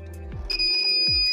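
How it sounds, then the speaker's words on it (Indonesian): A buzzer wired to a short-circuited capacitor circuit gives a steady, sustained electronic tone with a couple of low thumps at its start, close and moderately loud, with no talk. "Nah, buzzer ini langsung berbunyi ya"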